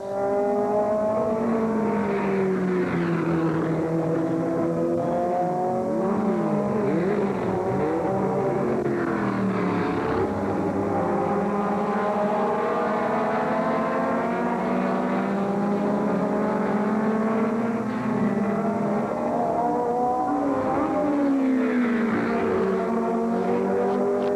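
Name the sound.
race cars speeding around the track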